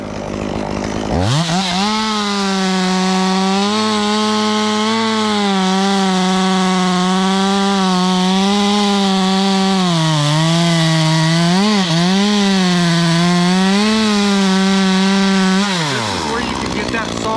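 201 chainsaw cutting into a dead tree, a loud sustained engine whine rising at the start, wavering in pitch as it bites, then dropping off at the end, close and alone without talk.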